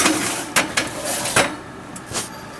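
Metal baking trays for bread are slid back into an oven, with several scraping clanks and knocks spaced irregularly over a close, steady background hum.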